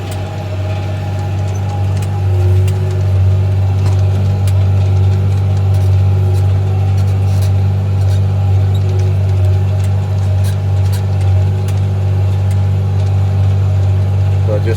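A New Holland 8970 six-wheel tractor pulls a Case 770 14-foot disc across rough volunteer growth in a field, its engine a loud, steady low drone with faint clicking from the implement.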